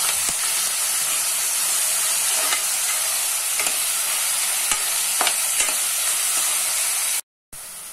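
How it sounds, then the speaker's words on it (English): Onions fry in hot oil until light golden brown, a steady close sizzle broken by the scrape of a stirring spoon, with a brief silent gap near the end. "Fry this till light golden brown."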